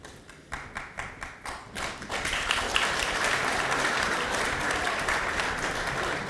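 Applause erupts at a party central committee meeting in a Korean hall, starting with a few separate claps that swell into steady, dense clapping from the audience.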